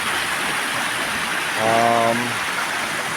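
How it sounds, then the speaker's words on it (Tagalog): Steady broadband rush of a rain-swollen river flowing over rocks fills the whole clip, with a brief tonal voice or hum rising over it midway. "nagkataon lang na malakas ang ilog o tubig"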